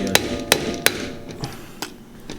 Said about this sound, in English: This is a sledgehammer.